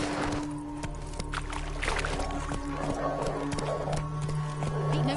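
Roach, a horse in a PS4 video game, gallops with rapid clip-clop hoofbeats over a steady low game soundtrack drone and ambient rustling, close and continuous.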